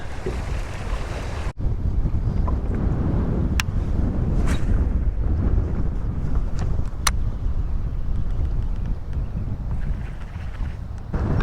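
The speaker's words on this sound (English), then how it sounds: "It's getting almost too windy to fish." Strong wind buffets the microphone in a steady, loud roar, with a few faint clicks and thumps over it.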